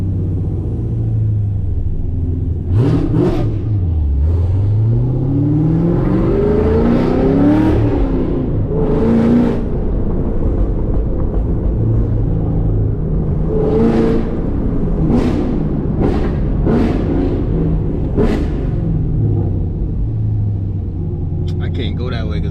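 Manual Camaro SS 1LE rumbling up close from the cabin, with several rising revs and gear-change pulls across the drive and someone talking over the engine between accelerations.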